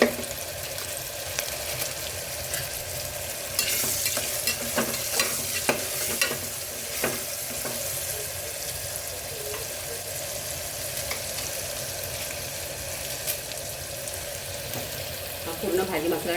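Vegetables frying with turmeric, coriander powder and masala in a home kitchen pan, continuous sizzle with repeated scraping stirs close by, a voice speaking faintly at times.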